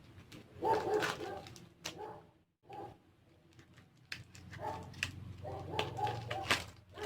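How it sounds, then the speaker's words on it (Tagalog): A neighbour's dog barks in short bursts in the background while a person talks nearby, the barks mixed with and partly under the speech. "Masyadong maingay yung aso ng kapitbahay namin."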